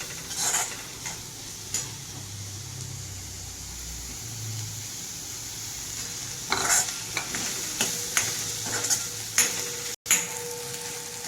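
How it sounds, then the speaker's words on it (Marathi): Plenty of onion sautés in a pan, a steady sizzle with a spatula scraping and stirring through it, close, with occasional sharper scrapes and taps. "भरपूर असा कांदा घ्यायचा आहे छान परतून घ्यायचा आहे"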